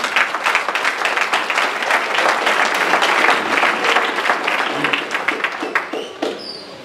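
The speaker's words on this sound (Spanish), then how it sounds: "A su nombre, dele palmas al Señor." A church congregation at an anniversary afternoon worship service claps in quick, dense rhythm for several seconds, loud and close, before the clapping stops.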